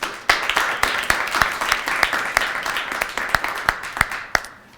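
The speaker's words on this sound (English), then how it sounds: "please give a big round of" An audience applauds for veterans at a morning body language show, a moderate crowd clapping steadily and close, with a few sharper individual claps standing out before it tapers off.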